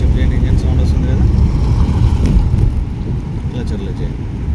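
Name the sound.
car engine after gear shift during driving lesson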